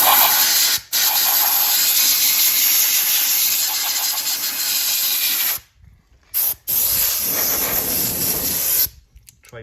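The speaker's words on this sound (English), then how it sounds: "I'm going to use some compressed air." Compressed air blasts loudly into a C6 Corvette to clear built-up gravel and dirt, a steady close hiss running nearly nonstop with two short breaks before a final sputter.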